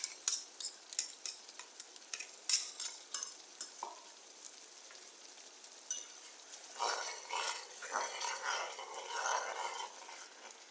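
Masala fries in oil in a kadhai for a paneer masala curry. A spatula scrapes and clicks in an irregular rhythm at first, then a louder, crackling sizzle builds up close by.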